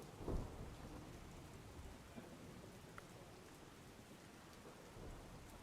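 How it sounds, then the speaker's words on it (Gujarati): Heavy downpour pours steadily across a rural taluka in Sabarkantha, with a dull rumble of thunder near the start and a constant dense hiss of rain throughout. "સમગ્ર તાલુકામાં વીજળીના કડાકા સાથે ધોધમાર વરસાદ વરસ્યો"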